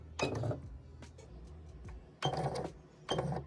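A sewing machine running a seam with back stitches at the ends: short mechanical whirring bursts, one at the start and two more near the end, separated by quieter pauses, close and moderately loud.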